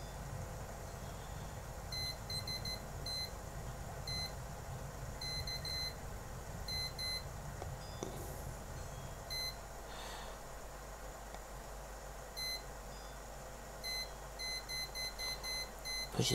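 Repeated short, high electronic beeps come from a computer's front-panel temperature sensor. They arrive in clustered bursts over a steady background hiss and keep going through the whole stretch. No one speaks.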